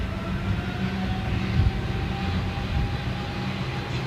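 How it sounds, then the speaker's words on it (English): Boeing 747 jet airliner passing at Gatwick, a steady broadband roar with a low rumble and a faint tonal whine, holding even and fairly loud throughout without talk. "Here she comes, 747."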